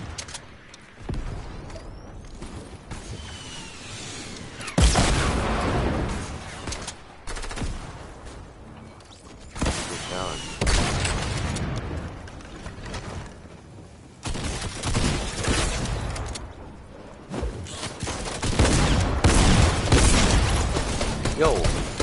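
Fortnite gunfire crackles in dense, repeated bursts of rapid shots and heavy single booms, loud and close, continuing with hardly a pause through the whole stretch of the match.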